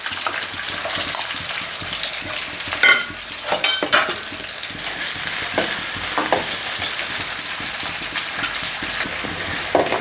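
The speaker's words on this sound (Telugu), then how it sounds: "ఉల్లిగడ్డ నూనె కాలింది." Onions fry in hot oil for a prawn and brinjal curry, a steady loud sizzle with a few sharp scrapes and clacks of a spoon stirring partway through.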